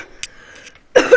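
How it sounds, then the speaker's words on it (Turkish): A single sharp cough close to the microphone at the end, after near silence with faint clicks. "Hasta olabilirim yani, çünkü öksürüyorum birkaç gündür."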